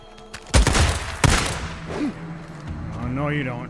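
Gunfire in the Days Gone video game: two sharp, loud shots about a second apart, followed by quieter game noise while a voice talks.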